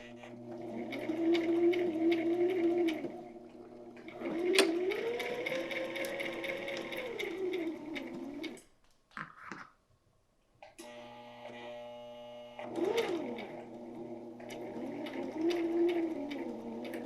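A hand-cranked sewing machine stitches coiled rope into a basket, its motor-like whir rising and falling in long runs with a short pause midway before stitching resumes, close and steady with no talking.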